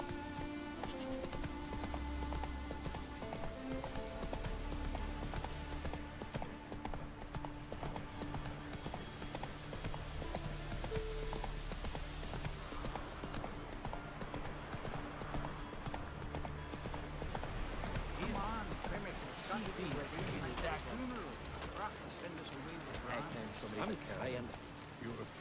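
Roach the horse from The Witcher 3 clip-clops along in a steady, continuous rhythm of hoofbeats with ambient game music throughout, while voices talk over it now and then.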